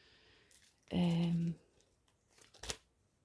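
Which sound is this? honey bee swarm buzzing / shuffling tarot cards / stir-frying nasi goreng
shuffling tarot cards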